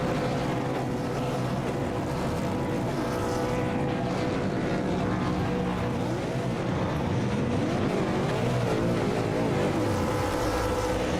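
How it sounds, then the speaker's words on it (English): V8 Supercar engines roar together at full revs during burnouts in a racing sim at Oschersleben's Grand Prix circuit, a loud, unbroken, dense wall of engine noise. "I don't know if you can hear me over the top of these engines going absolutely ballistic."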